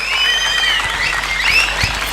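Audience applause after a speech at a youth talent show, a dense, steady wash of clapping from a sizeable crowd with high whistles or cheers riding over it, close and loud, without talk.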